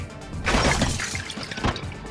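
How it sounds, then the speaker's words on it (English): Saber smashing away bones in the Fate Stay Night PC game: a brief crunching shatter with a second sharp impact shortly after, fairly loud and close. "Saber smashes away the bones to protect my back."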